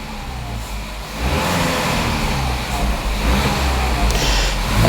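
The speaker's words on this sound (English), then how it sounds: "and let's rev the engine up." A car with a DSG gearbox, engine revved while the car sits stationary, a loud steady rumble that swells and holds, with no voices.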